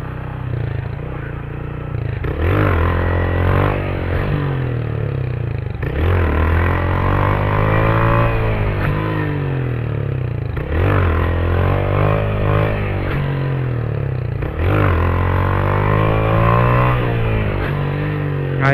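A motorcycle revs and accelerates in repeated surges during wheelie practice, the engine rising and falling in about four strong pulls, loud and close, with no talking over it.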